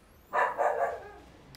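A dog being dog-sat indoors gives a quick burst of two or three barks close by, bunched together and then fading, with no speech over them.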